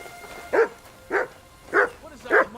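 A dog in Kingdom Come: Deliverance 2 barks four times at an even pace, each bark loud and close, with a faint background hum between them.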